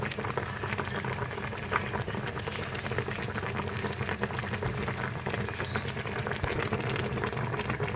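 Fish paksiw with coconut milk simmers in a pot, a steady close bubbling and spattering boil that runs evenly throughout with no talk.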